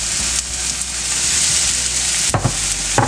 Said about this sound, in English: So we are gonna put around 5 to 6 tablespoons of batter